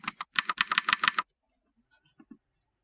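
Software-simulated Mac keyboard typing plays as a quick run of about eight crisp, close keystrokes, followed by near silence with a few faint clicks.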